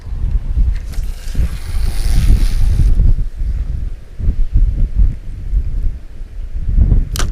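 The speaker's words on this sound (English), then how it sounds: "around here in spring it's windy season. It's just always windy." Strong spring wind gusts across a carp fishing lake, roaring and buffeting the microphone in heavy surges that rise and fall, loud and close with no voices.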